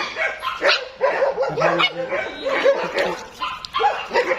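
Several dogs, Lhasa and German Spitz, bark and yip in quick, repeated bursts close by, with whimpers between them and some voices mixed in.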